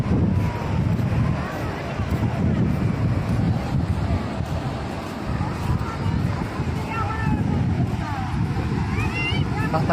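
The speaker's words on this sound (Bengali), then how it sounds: "বাতাসও ঠান্ডা বাতাস" Cold wind blows steadily outdoors, a broad continuous rush buffeting the microphone for the full stretch, with voices talking faintly underneath.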